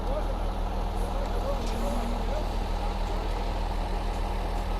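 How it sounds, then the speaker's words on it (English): A cement truck backing in idles and rumbles steadily up close, with a faint high whine from its movement. "we got another truck, cement truck backing in"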